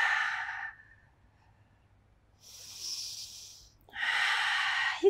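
Slow, deep breaths during a beginner Pilates upper-body stretch: a long airy exhale, a pause, a drawn-out inhale, then another strong breath, close and unaccompanied by talk.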